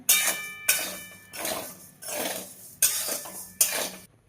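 Rice dry-roasting in a pan for chakli flour, heard as rhythmic scraping strokes of a spoon against the metal pan, about six distinct sweeps with short pauses between.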